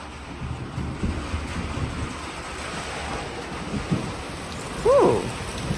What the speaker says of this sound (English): Forgive the rain sound.